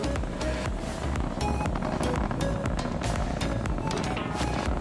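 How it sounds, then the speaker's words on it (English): Nine Merlin engines of a SpaceX Falcon 9 first stage roar during liftoff from Pad 39A at Kennedy Space Center, a dense, steady rumble with no breaks throughout. "Moments ago, we began to throttle the 9 Merlin engines that you see. They're propelling the first stage through the atmosphere."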